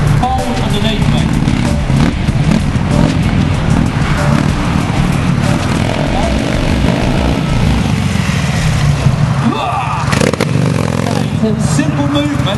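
A Buell motorcycle engine idling and revving through a controlled stunt-riding move, a steady close engine drone with a rider talking over it.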